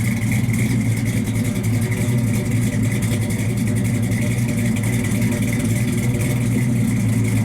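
A 1965 Chevy II Nova engine idles steadily with a deep, lumpy rumble and exhaust throb, continuous and close, with no talking.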